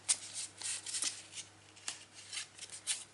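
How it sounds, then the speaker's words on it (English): Tarot cards shuffled by hand in a quiet room, a series of soft riffling and sliding bursts in an uneven rhythm, close and faint, with no talking. "So I'm going to shuffle the cards."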